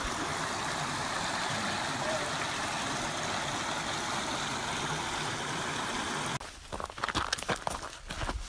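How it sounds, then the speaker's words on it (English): A small mountain creek flowing out of a lake in Kananaskis Country rushes steadily and fairly close for several seconds, then drops away to quieter, uneven outdoor sounds. "Here's the creek coming off the lake."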